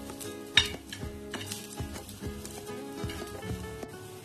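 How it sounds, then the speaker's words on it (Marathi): Onions frying in a pan with a quiet continuous sizzle, broken by repeated scraping and clinking of a utensil stirring against the pan, close and fairly soft. "अशा प्रकारे आपल्याला कांदा भाजून घ्यायचा आहे"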